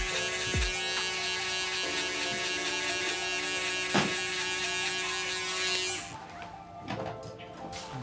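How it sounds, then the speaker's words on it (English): An electric shaver runs continuously with a steady, loud, close buzz while cleaning up a mid taper haircut, its pitch shifting slightly as it moves across the skin, then dropping off near the end. "I follow it up by using my shaver"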